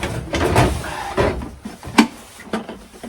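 A bottom drawer of a UK mobile welder's van toolbox slides open, giving a few scraping, clunking metal knocks and rattles of tools shifting inside, close up, with quiet pauses in between.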